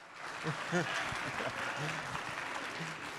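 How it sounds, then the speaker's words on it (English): Steady audience applause fills a hall at a 50th anniversary celebration event, a dense, even wash of clapping with voices faintly audible beneath it throughout. "let them, yeah, clap it up"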